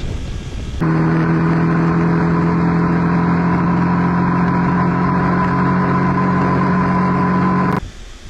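A KTM RC 250 single-cylinder motorcycle engine revs loudly and close, holding a steady, strong buzzing drone for about seven seconds before it cuts off abruptly.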